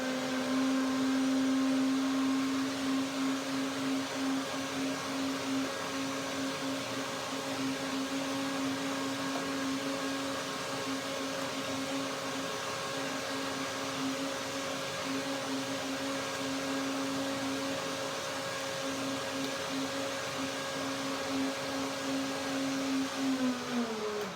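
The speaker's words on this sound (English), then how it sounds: "Second blending, blender dance." A blender blending semolina runs continuously at close range with a steady high whine and motor hum, slowing briefly at the very end.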